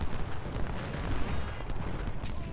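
Musket volleys crackle in dense, overlapping bursts from a Civil War battle at Chancellorsville in Ultimate General: Civil War, a steady rolling fusillade with no talk.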